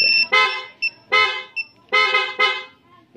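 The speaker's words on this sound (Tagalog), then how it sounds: "Loud horn." A Yamaha Sniper 150 MXi motorcycle horn honks four times in short, loud bursts, close up, with brief gaps between blasts and no talking.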